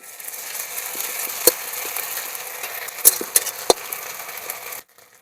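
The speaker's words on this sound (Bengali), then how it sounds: "পেঁয়াজ ভাজা ভাজা হয়ে গেছে, এবার দিয়ে দেবো আদা রসুন বাটা।" Ginger-garlic paste fries with chopped onions in mustard oil in a wok, giving a soft, moderate sizzle punctuated by a few sharp metallic clinks of a spoon against the pan before it stops abruptly.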